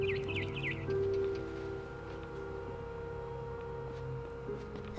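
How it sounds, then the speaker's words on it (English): Birds chirp outside a window in What Remains of Edith Finch, with a quick cluster of soft, high tweets at the start over a quiet, steady tonal ambience. "Then I heard chirping outside my window."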